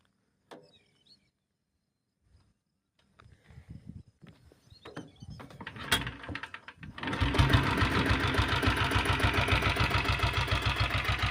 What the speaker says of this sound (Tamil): அப்படியே இந்த உடனே கிக் ஸ்டார்ட்டும் பண்ணிடுறேன்.